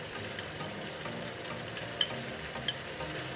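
Cut vegetables go into a pot of Korean abalone porridge, giving a soft, steady sizzle and gentle bubbling with a couple of faint clicks as it is stirred.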